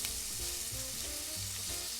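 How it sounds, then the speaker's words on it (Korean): Garlic, onion and peperoncino fry in extra virgin olive oil in a pan over medium heat, giving a steady, dense crackling sizzle that stays even throughout, close up and with no talk. "올리브 오일에 양파, 마늘, 페페로치노의 향이 충분히 배이도록 볶아줘요."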